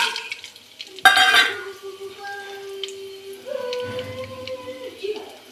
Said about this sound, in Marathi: आता आपण याच्यात खडा मसाला टाकूया